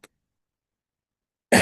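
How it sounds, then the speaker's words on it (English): A single short, rough cough lands near the end after a stretch of silence, fairly close and alone with no talk over it. "Sorry, I've got a bit of a cough today."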